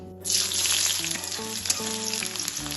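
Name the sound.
chopped onion sizzling in hot oil with dried chillies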